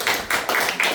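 People at a small organizational meeting clap in a few quick, close, sharp taps, brief and fairly loud with no talking over them.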